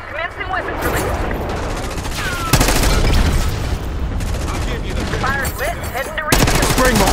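Heavy weapons fire from an airstrike in Black Ops 6 rolls on almost without a break, with dense bursts and booming impacts that swell twice, under radio-style voices and game noise.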